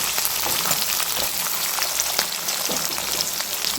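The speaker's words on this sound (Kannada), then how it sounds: "ಈಗ 2 ನಿಮಿಷ ಎಣ್ಣೆಯಲ್ಲಿ ಫ್ರೈ ಆಗಬೇಕು. Deep fry." Food deep frying in hot oil gives a continuous dense crackling sizzle, steady and fairly close, with no voices.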